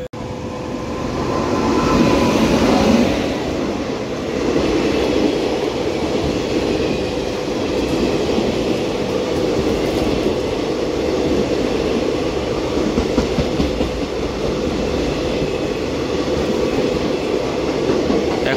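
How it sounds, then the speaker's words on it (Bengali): Varanasi–Jammu Tawi Begampura Express passing through Laksar station, a loud, continuous rumble and roar of rolling wagons swelling early then holding steady for the full length, close by, with no talking. "এখন লক্সরে গঙ্গা সতলেজকে ওভারটেক করছে বারাণসী জম্মু তাওয়াই বেগমপুরা এক্সপ্রেস"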